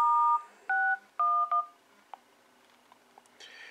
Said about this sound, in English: Here's the dialer, and let's go ahead and do a test call here.